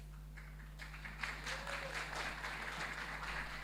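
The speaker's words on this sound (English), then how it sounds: "I take the applause." Faint audience clapping at a conference session during a Barbados arts festival, building from near quiet into a scattered, soft patter over a steady low electrical hum, with a brief voice in the middle.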